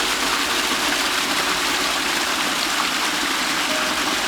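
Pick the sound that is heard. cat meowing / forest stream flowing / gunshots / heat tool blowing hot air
forest stream flowing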